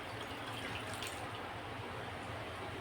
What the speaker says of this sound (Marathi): त्यामध्ये पाणी टाकून घेऊ